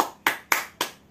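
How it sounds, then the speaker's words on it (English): Three sharp, evenly spaced hand claps from a group of students in a classroom, each a crisp burst that decays quickly, with no talking. "Please clap your hands."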